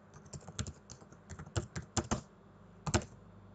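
Keystrokes on a computer keyboard entering a Linux chmod command, a quick irregular run of close clicks with a short pause before a final pair of taps.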